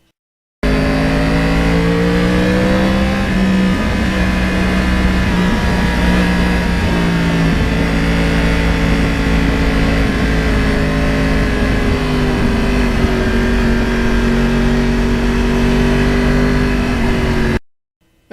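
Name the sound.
Yamaha R1 crossplane motorcycle engine while riding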